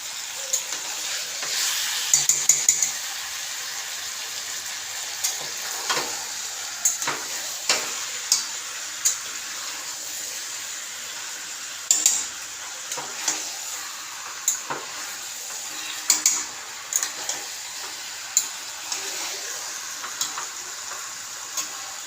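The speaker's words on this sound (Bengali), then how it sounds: "মাংসটা দিয়ে দিলাম। এটা আবার ভাজবো, কষবো ভালো করে।" Meat frying and being stirred in a pan while being browned thoroughly, a steady close sizzle broken by frequent sharp scrapes and clatters of the spoon against the pan, with no talking.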